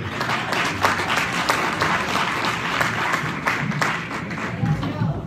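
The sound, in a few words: church congregation applauding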